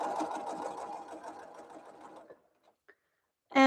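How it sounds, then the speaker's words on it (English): A sewing machine runs steadily to finish the end of a long seam, a dense close whirring hum that stops abruptly partway through, followed by a couple of faint clicks and a sudden loud sound at the end. "I am at the very end of this one long seam, and I want to take it out from the machine."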